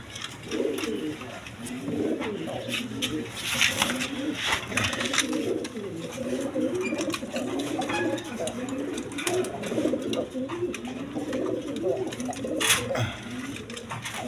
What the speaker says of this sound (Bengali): এইখানে আরেক পেয়ার কালপিট কবুতর আছে দেখেন এটা খুব ভালো জাতের কবুতর দেখেন